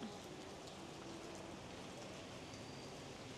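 Steady, soft rain hissing evenly throughout, with faint scattered drops and no clear voices.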